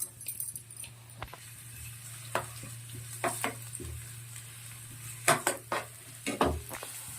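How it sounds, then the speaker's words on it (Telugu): Onions frying in hot oil for a chicken samosa filling: a soft sizzle with scattered spatula clinks and pan knocks over a steady low hum. "ఇప్పుడు ఆయిల్ హీట్ ఎక్కిన తర్వాత కొన్ని ఆనియన్స్ని ఫ్రై చేసుకోవడానికి వేసుకోండి"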